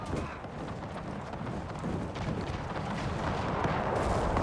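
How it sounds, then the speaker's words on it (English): Artillery fire in the Napoleon Era Mod battle game, heard as a dense, continuous rumble of distant cannon booms and battlefield noise that swells slightly toward the end. "Currently under artillery fire"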